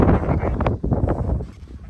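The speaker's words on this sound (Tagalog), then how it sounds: "Sobrang lakas lang ng hangin." Strong gusty wind buffeting the microphone on a hilltop in Abra, a loud rumbling roar that surges and eases over a couple of seconds.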